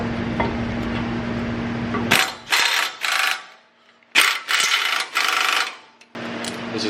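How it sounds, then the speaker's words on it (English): Impact gun running in 17 millimeter bolts on a Toyota truck brake job, several short bursts of whirring, rattling mechanical noise with pauses between them, close and loud. "I'm using the gun, but I'm barely hitting the trigger, just, you know, running it in."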